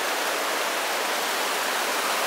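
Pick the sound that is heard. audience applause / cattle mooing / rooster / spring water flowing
spring water flowing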